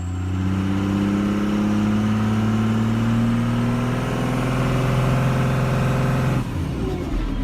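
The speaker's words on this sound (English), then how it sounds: "You heard a second-gen Ram spool up on Main Street." A second-generation RAM 2500 heavy-duty diesel pickup engine spools up in a steady, loud, rising drone that holds for several seconds before dropping off near the end, with no talk over it.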